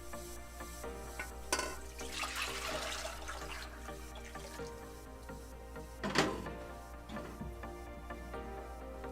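Liquid pouring out of a container: a continuous gurgling, splashing stream with a steady low hum underneath, rising in a couple of louder surges, no talking.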